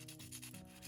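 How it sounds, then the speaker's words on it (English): Sandpaper rubs steadily against a metal surface in quick scraping strokes, close up and continuous. "I am gonna sand the back of this metal plate a little bit"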